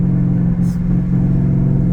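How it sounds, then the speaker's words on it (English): Exhaust of a modified two-door truck in sport mode, a steady low burble with a deep rumbling drone and a brief crackle partway through, close and loud. "Got a little burble."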